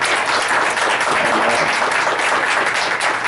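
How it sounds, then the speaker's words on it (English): Audience applause at a Rapid City library event with a traditional Native American flute performance: a dense, steady wash of clapping that stays loud and sustained from start to finish, with no talking. "I'd like to give a big round of applause to Susan"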